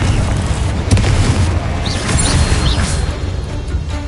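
A Confringo explosion spell in the video game Hogwarts Legacy lands as a loud, booming blast with a crackling, rumbling tail that lingers for several seconds.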